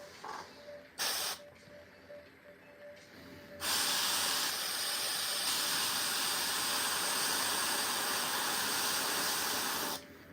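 Airbrush spraying paint onto a Warhammer miniature: a few short bursts, then a loud, steady, close hiss held for about six seconds before it cuts off.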